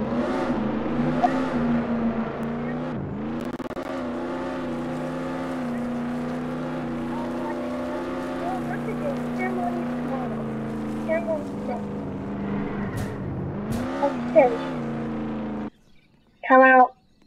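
A Lamborghini engine in a video game drones and revs steadily at length, the sustained tone rising and falling a few times, with people talking over it before it cuts out and a short burst sounds at the end.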